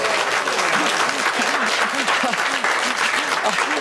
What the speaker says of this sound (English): I think we can call that applause reluctant